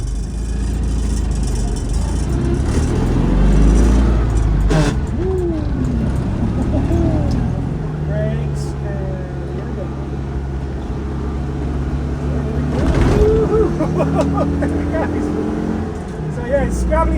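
A Citroen 2CV driven along a greasy winter road on low-grip tyres, its small engine droning and shifting in pitch as it labours, with a voice talking over it.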